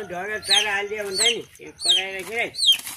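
A hen clucks close by in a few drawn-out, throaty calls, roughly four bursts across three seconds with short gaps between them.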